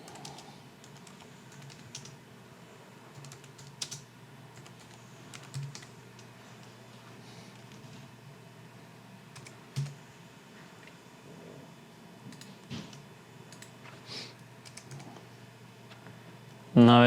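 Keys tapped on a computer keyboard while typing a correction during text-based editing in Premiere Pro, a soft, irregular patter of clicks with a few sharper strokes over a low background hum.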